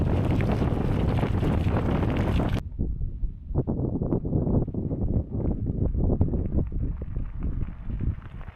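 Heavy dry wind buffets the microphone outdoors in a loud roaring gust, then eases into lighter, uneven gusts and rustling.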